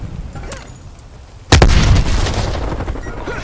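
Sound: grenade explosion in Call of Duty Black Ops Cold War video game

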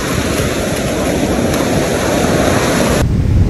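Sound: ocean waves at the beach

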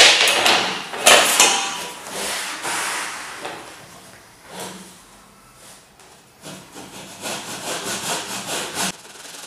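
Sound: hand sawing a 45° miter cut in wood edging

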